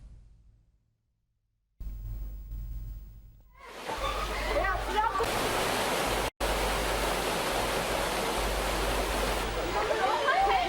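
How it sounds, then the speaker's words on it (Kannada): Antaragange waterfall, swollen after good rains, rushing in a steady loud roar that comes in after a quiet start, broken only by a brief cut. "ಉತ್ತಮ ಮಳೆಯೂ ಆಗಿರುವುದರಿಂದ ಜಲಪಾತ ಸೃಷ್ಟಿಯಾಗಿದೆ"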